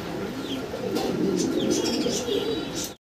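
Pigeons at a pigeon collection, including grey barless lark pigeons, coo softly with a few chirps and brief wing flaps, steady and fairly close, without talk.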